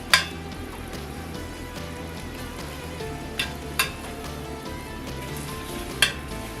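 Carrots coated in brown sugar sizzle and fry in a pan with a steady, soft crackle, broken by a few sharp clicks and taps of stirring.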